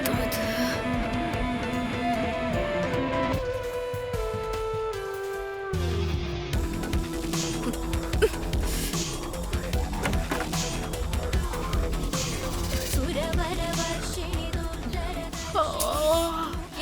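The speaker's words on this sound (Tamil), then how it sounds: "அதுக்குள்ள எதுக்கு இவ்ளோ சத்தமா பாட்டு போடுறாங்க?" A loud song blares early in the morning, a steady dense mix of music filling the space without pause, the melody shifting and thickening partway through.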